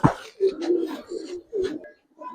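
Pakistani high flyer pigeons, silver Giribaz, cooing in a series of soft, throaty calls close by, with brief pauses between phrases.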